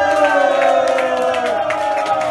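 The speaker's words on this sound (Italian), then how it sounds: "voi siete la cosa più bella che c'è, raga, fatemi un cazzo di applauso" A crowd at a freestyle rap battle final cheering and applauding, a loud sustained roar with clapping and whoops throughout.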